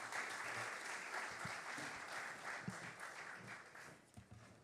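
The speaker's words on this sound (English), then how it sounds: "Ladies and gentlemen, I ask that we put our hands together." A conference crowd at a diaspora launch event applauds a keynote speaker, with steady dense clapping filling the space throughout, moderately distant and even in level.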